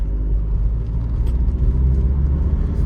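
A 2016 Volkswagen Golf 7 with a five-speed manual gearbox drives along, giving a steady, loud low engine and road rumble heard from inside the car, with no talk.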